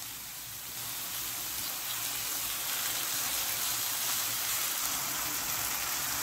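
Chicken pieces frying in a hot pan for wonton filling give a steady, dense sizzle like light rain that swells slightly after the first second and holds without talking.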